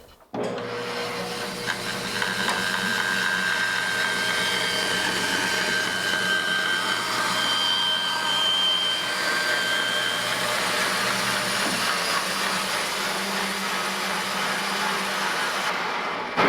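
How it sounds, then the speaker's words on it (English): A bandsaw rips a board freehand in a woodshop, a steady, close whine of the blade and motor with a rough wood-cutting hiss running continuously for the whole stretch. "Take your bandsaw and freehand saw you a straight line up until about the middle."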